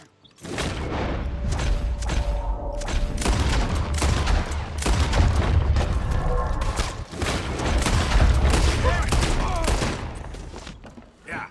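Rapid gunfire in Red Dead Redemption 2, a loud sustained fusillade of shots and booms lasting most of the stretch, dense and continuous with little pause, fading near the end.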